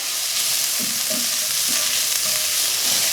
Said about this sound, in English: we're going to add in the garlic and just cook that for a minute or so